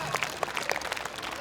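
Audience applause at a school teacher show at JPS Academy Assandh: a short burst of crowded clapping, steady and fairly loud throughout, with no voices standing out.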